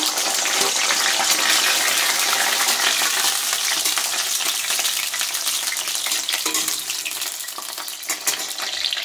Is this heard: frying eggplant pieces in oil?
yes